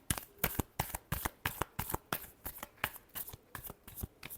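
Tarot cards are shuffled in quick, crisp riffles, a steady run of about twenty sharp flutters repeating evenly, near and alone.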